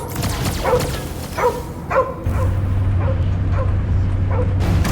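Cosmo the dog in the Guardians of the Galaxy game gives several short barks and whimpering yips in bursts, then a steady low hum and occasional faint yelps continue underneath.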